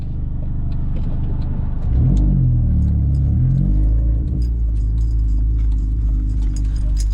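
Car engines rumble close by, one revving up and easing off midway, over a continuous low idle with faint clinks in the background.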